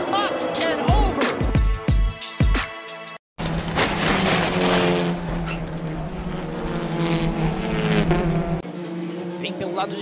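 Race cars roar loudly on a motorsport track around a huge crash on the front straightaway, with engine noise and a sharp break near three seconds, then a sustained engine drone under excited commentary throughout.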